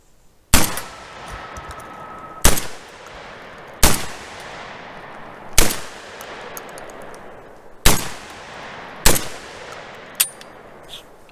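Rock Island Armory VR80 semi-automatic shotgun fired at bowling pins outdoors: six loud, sharp blasts at irregular intervals of one to two seconds, each with a short ringing decay, no talking.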